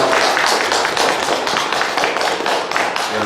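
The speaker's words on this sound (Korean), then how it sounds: "함께 박수로 한번 영광하십니다." Church congregation applauding during a Korean Sunday worship service, a dense, steady wash of many hands clapping close by for about three seconds with no break.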